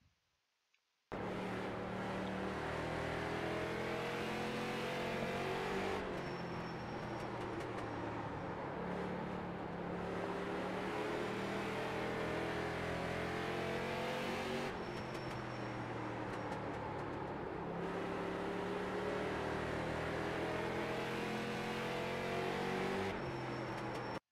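Street Stock race car lapping Langley Speedway in iRacing, a steady droning engine with rising and falling pitch as it accelerates and lifts through the corners, continuous and close for the whole run.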